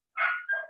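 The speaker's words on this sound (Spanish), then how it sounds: "que estos perros no se callan" A dog barks twice in quick succession, close and fairly loud, with no talking over it, breaking into a class session.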